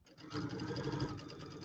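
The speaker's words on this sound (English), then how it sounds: "we're going to sew all the way around 1/4 inch" A sewing machine stitching a quarter-inch seam around a pillow, a brief steady whirring hum running close and fairly quiet.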